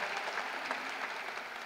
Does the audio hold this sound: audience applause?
yes